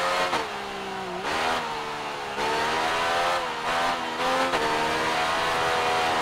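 Yamaha motorcycle engine in the racing video game Ride 3, revving hard with rising pitch sweeps and brief dips between gear changes, loud and continuous with no talk.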